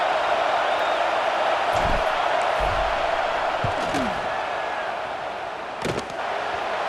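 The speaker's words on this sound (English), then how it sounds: "This crowd trying to do its part to get inside the kicker's head." A stadium crowd roars in a College Football 26 video game before a fourth-down field goal, a steady broad wash of noise with a few thumps and whoops rising through it.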